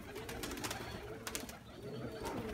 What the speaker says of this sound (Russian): Это не гул голубиный, это храп.